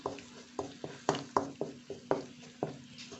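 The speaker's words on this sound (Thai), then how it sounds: "เคี่ยวให้ พริกแกงมันสุกแล้วก็ให้มันหอมก่อนเนาะ" A spoon scrapes steadily through Thai curry paste as it simmers in a pot for a coconut-milk curry with lotus stems and mackerel. The close strokes come in an even rhythm about twice a second over a low background hum.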